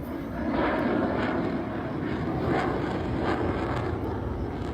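A military fighter jet roars overhead at a Thai Children's Day show, a loud, steady broadband rumble that swells and holds for several seconds with wind buffeting the microphone.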